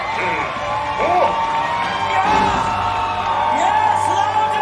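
A crowd at a Disney villains stage show at Hollywood Studios whoops and yells for Captain Hook, a loud, sustained mass of shouting and cheering with individual voices rising above the din.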